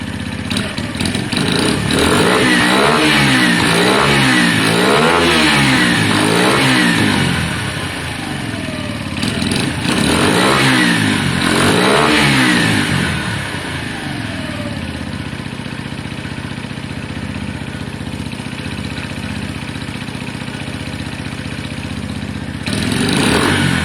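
A Lexmoto Valiant motorcycle fitted with a swapped exhaust idles, then revs sharply in repeated bursts; its close, loud engine rises and falls rhythmically before settling back to a steady idle.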